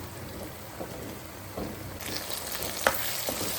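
Masala fries with onions and drumsticks in a pan for an egg drumstick curry: a continuous sizzle runs under occasional scraping stirs, with one sharper clack near the end.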